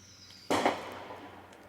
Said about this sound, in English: there's a firework